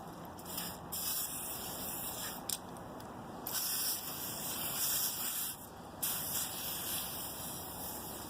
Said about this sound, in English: Lube them up with some WD-40.